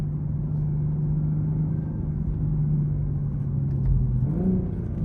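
A 2023 BMW M440i Gran Coupe RWD engine hums smoothly while driving in first gear, a steady low drone heard from inside the cabin that climbs slightly in pitch near the end, with no talking.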